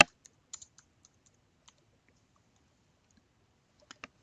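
A few scattered keystrokes on a computer keyboard sound as soft, isolated clicks with long quiet gaps between them, ending in a short pair of taps.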